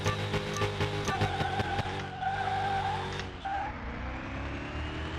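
A car launches from a locked brake at a drag strip in Car Mechanic Simulator 2021, its engine holding a strained, wavering rev with tire squeal before easing down; loud and close, with no talking.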